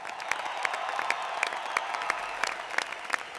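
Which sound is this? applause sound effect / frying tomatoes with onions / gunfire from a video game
applause sound effect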